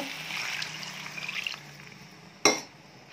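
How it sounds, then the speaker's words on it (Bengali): Water is poured into a soya chunk and duck egg gravy, a short liquid splash and trickle heard close up, ending with a sharp clink of a vessel. "জল দেব"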